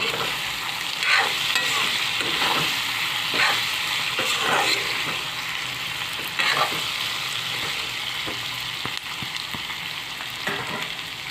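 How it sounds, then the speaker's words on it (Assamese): Meat frying with salt in a pan, a steady sizzle running throughout with scraping stirs of a spatula recurring every second or two, fairly close and without talk. "অকণমান নিমখ দি পেলাই অকণমান দেৰি সময়লৈকে ভাজোঁ"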